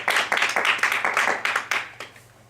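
Audience applause after a talk: a short burst of clapping in a room, sharp individual claps in uneven rhythm that fade out over a couple of seconds.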